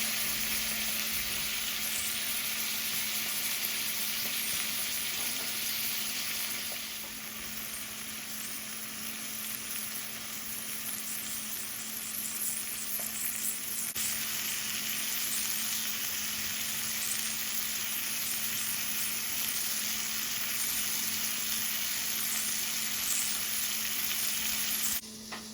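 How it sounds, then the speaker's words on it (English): A stuffed steak browns in a hot pan, making a loud, steady, close sizzle that runs unbroken for the whole stretch, with no one speaking. "It's browning nicely."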